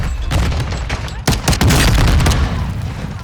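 Grenade blast and a burst of gunfire in the shooter game Warzone 2.0: loud, dense explosive booms and rapid shots crowd the whole clip, with a sharp, heavy impact midway.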